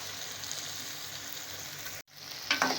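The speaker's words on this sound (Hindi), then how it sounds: "जितनी देर में हमारी अरबी और आलू फ्राई हो रहे हैं" Taro root (arbi) and potato pieces fry in oil with a steady, even sizzle that cuts out briefly, then returns with brighter crackling spatter.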